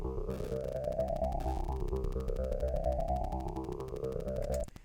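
Synth bass part in a DAWless jam mix plays alone, a steady pulsing line with a rising sweep and a dull, mid-heavy tone, loud and continuous before cutting off at the end.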